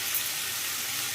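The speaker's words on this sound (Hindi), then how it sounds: "मसाले को हम अच्छे से भूनना है कम से कम 5 मिनट तक।" A ginger, garlic, chili and cumin paste fries in a pan, giving a brief, steady, moderately loud sizzling hiss without pauses or voices.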